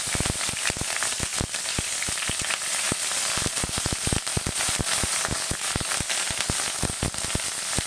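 Garlic frying in hot cooking oil in a pan, a dense, steady sizzle with rapid crackling pops throughout, close and loud, with no talking.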